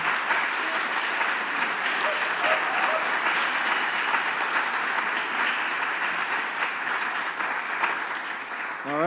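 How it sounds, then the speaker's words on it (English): Sustained, dense applause from an audience honoring graduating seniors at a senior project presentation fills the room evenly for several seconds, loud and continuous with no break. "Another round of applause for them and their hard work and their accomplishments."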